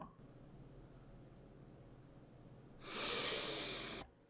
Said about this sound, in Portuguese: aqui eu tenho minha respiração